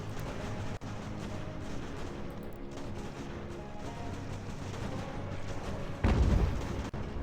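Cannon volleys fire in the American Revolution strategy game Ultimate General as a dense, continuous battle rumble with scattered reports, and a heavier boom swells near the end.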